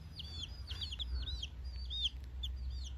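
Small chicks in a countryside village peep and cluck in a quick series of high chirps over low background rumble, faint and fairly close.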